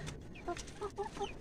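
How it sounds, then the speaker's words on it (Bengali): Chickens clucking near a red rooster in a coop, several soft, quiet clucks in short bursts against low background noise. "এই যে মোরগগুলো, এক লাল মোরগ আছে"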